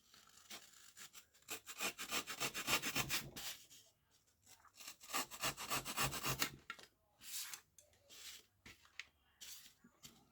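Excess material being cut off a handmade jaw harp case, heard as rough, rhythmic sawing strokes in uneven bursts with short pauses between them, close and moderately loud.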